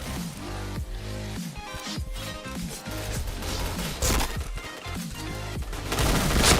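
Gunfire in the shooter game Point Blank, dense volleys of rapid shots and impacts, continuous and loud with a busy clattering texture throughout.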